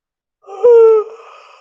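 A single human yawn, a rising breathy onset that swells into a loud voiced drawn-out tone, then trails off into a softer exhale, heard close and alone.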